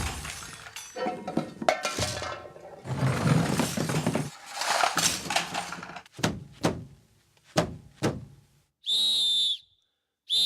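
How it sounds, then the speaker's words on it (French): Whistles recorded indoors: a run of short sharp blasts and chirps, then one steady loud high-pitched whistle tone lasting about a second, followed by another brief blast at the end. "On a enregistré des sifflets avec Thomas"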